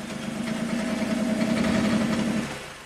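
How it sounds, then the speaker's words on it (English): Jaguar S-Type V6 engine running in gear under load with a single-cylinder misfire, a steady close rumble with an uneven low throb that holds for most of the span, then eases off at the end. "let's crank it up. Should have a single cylinder misfire."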